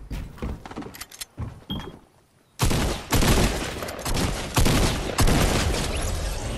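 A Fortnite battle royale match with scattered sharp gunshots, first sparse and moderate, then a sudden loud sustained volley of rapid fire that keeps going in bursts, close and harsh, without speech.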